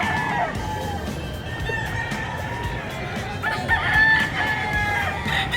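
Several gamecock roosters at a live animal market in Bocaue, some in cages, crow over one another against a steady background din, the calls overlapping and fairly close, with a louder crow near the end.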